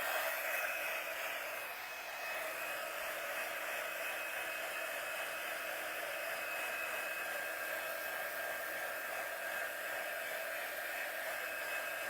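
A hair dryer blows continuously at close range to dry a decoupaged spaghetti sauce jar, a steady, loud, airy roar with a high whine that barely changes for the whole stretch.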